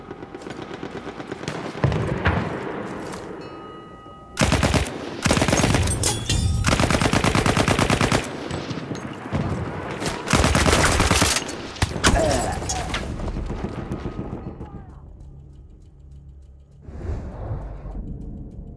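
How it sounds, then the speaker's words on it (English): Battlefield 1 battle with artillery barrage and heavy gunfire, dense loud bursts of rapid shots and booming blasts that come in waves, dropping to quieter rumbling between volleys. "Being halted by our artillery barrage."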